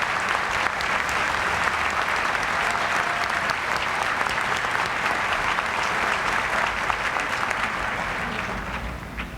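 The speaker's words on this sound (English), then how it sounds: "Standing ovation here for Centenary Theater." Sustained, dense applause from a large audience at a Harvard commencement standing ovation in Tercentenary Theatre, steady and loud throughout before easing slightly at the end.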